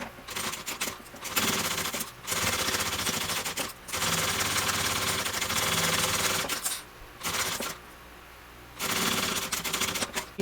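Sewing machine top stitching the lining of a bag, running in loud rapid mechanical bursts separated by short pauses as the fabric is repositioned.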